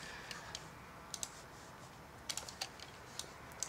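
Sharp, quiet clicks of a computer mouse while items are bought in Diablo 2, coming in small irregular bursts over a low background hiss.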